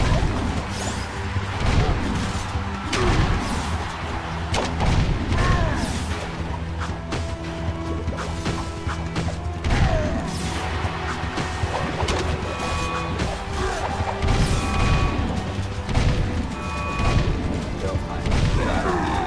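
Gunfire in the video game Jak 3 cracks out in repeated sharp blasts and booms, layered over dense game effects and background music while someone talks at times.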